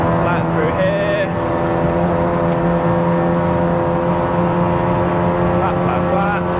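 Engine note of a turbocharged 500+ BHP MK7 Golf R track car lapping the Nurburgring, a loud steady drone with strong harmonic tones and rising pitch under acceleration, heard from inside the car with a driver talking over it throughout.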